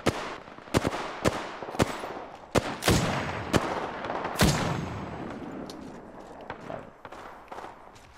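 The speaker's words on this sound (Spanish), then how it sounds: "Disparos allá." Scattered sharp gunshots, some in quick pairs, crack over a rumbling background, with a few louder booming blasts and fainter distant shots trailing off, in the video game Apex Legends.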